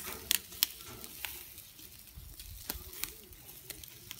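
Soft, steady sizzling and faint crackling of chicken cooking on a barbecue grill, with occasional sharper pops, fairly quiet and close.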